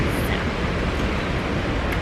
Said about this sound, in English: very windy, so I took my hat off.